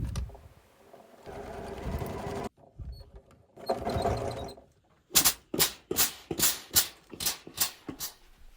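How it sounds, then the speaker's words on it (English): Sewing machine top stitching a trouser waistband on pleated pants, with elastic inside: bursts of steady machine stitching, pauses between, then a run of short rapid stitch pulses near and clear. "here's where I'm top stitching the waistband"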